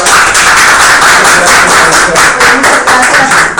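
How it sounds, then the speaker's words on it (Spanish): An audience at an academic talk on social research applauds the speaker: dense, loud, continuous clapping close by for several seconds. "Pues un aplauso para la maestra."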